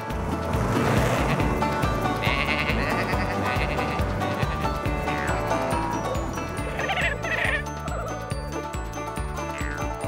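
Cartoon sheep bleat in a children's animated farm show, their wavering calls repeating over a loud, continuous music score, with no talk during the clip.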